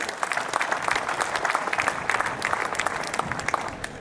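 Audience applause fills an auditorium at a college campus event, steady dense clapping throughout with no talk over it.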